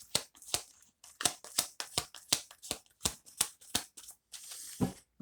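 Tarot cards riffle and slap together in quick repeated shuffles, a steady run of crisp papery snaps about every few tenths of a second, close and fairly quiet, with no voice over them.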